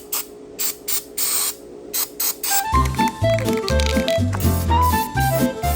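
Short repeated hisses from a spray can inside a small DIY amphibian boat hull, about a dozen bursts in quick succession, then music takes over.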